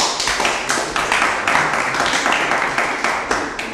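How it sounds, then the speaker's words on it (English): Audience applause for a boxer after a women's boxing bout, a dense steady patter of many hands clapping throughout, moderately loud with no talk. "And a hand of applause, please,"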